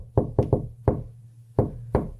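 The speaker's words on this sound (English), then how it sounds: "we cut to a metallic door being knocked on to the familiar tune of "Shaving a Haircut."" Knuckles rap on a metallic door in the familiar shave-and-a-haircut rhythm, six sharp, close knocks grouped in a quick run and then a pause before the final pair, with no voices.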